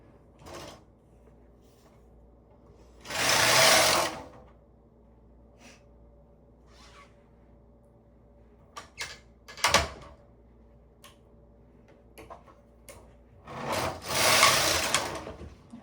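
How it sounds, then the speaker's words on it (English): A knitting machine carriage is pushed across the needle bed, giving two loud broadband sliding sweeps about ten seconds apart, with small clicks and knocks of the machine in between. "hold on to the bottom of the yarn and then push the carriage across"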